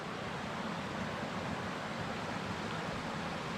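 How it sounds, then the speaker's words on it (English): Rapid water in a small creek beside a mountain hiking trail rushes steadily, a broad, constant near roar with no voices. "Walking on side this little kind of rapid water creek. I'm sure you can hear that."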